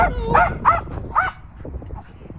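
A dog barks and yips in a few quick, excited bursts while playing with a ball, then quieter rustling follows; a person is faintly audible underneath.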